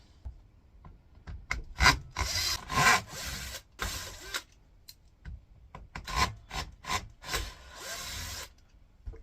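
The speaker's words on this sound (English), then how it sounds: "Now I'll put the bit into the drill." Close mechanical grinding and rasping from a drill removing screws from scrap aluminium comes in bursts of varying length, separated by short pauses.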